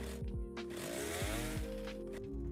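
A chainsaw runs continuously in the video game 99 Nights in the Forest, a loud buzzing drone with its engine pitch rising and dropping in repeated revving swoops.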